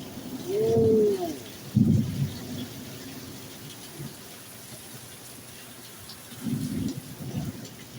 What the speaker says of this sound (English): That was the weirdest thunder I ever heard.